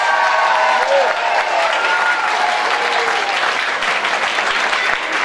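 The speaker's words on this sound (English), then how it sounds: "Give them a big round of applause." An audience at a school board meeting gives loud, sustained applause for elementary school music and art students, with some cheering and murmuring voices mixed into the steady clapping.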